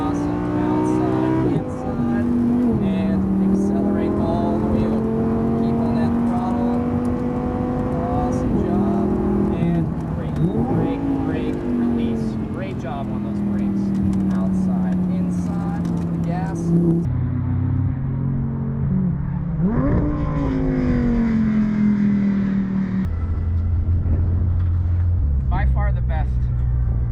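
A sports car, a Lamborghini Huracan or Porsche 911 GT3, accelerates hard on a race track, its engine droning loudly and climbing through gears with shifts and pitch drops, while people talk over it throughout.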